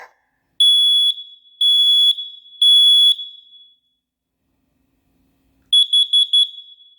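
A Kidde Firex model 900-CUDR-V smoke and carbon monoxide detector sounds its test alarm: three loud, piercing long beeps, a pause, then four rapid short beeps, close up with no talking.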